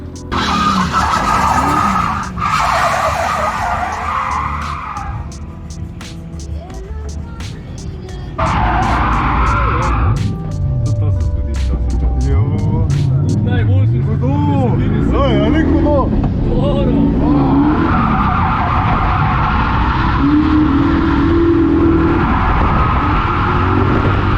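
Rally car spinning and skidding on a demo-day track, with loud tire squeals and screeching slides rising and falling, engine revs and bursts of crowd chatter and speech mixed in throughout.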